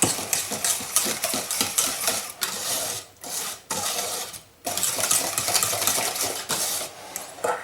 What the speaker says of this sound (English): We just add them here, and we whisk all together.